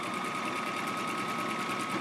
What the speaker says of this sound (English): we're going to do our top stitching